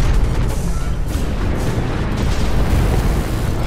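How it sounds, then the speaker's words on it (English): Missiles exploding in midair during Hawken mech combat, a loud continuous rumble of booming blasts with no break, close and heavy throughout. "these missiles always, like, they have some sort of problem where they explode in midair in that area"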